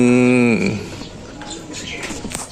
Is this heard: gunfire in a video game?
no